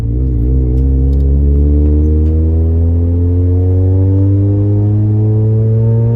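A Mazda FB RX-7 rotary with a Racing Beat exhaust cruises at quarter throttle around 4,000 RPM, a steady, loud, droning hum that climbs slowly in pitch, with no talking.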